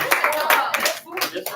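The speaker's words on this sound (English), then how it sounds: "Clap them off." A high school honors class claps hands in a classroom, a quick burst of several sharp, uneven claps mixed with people talking.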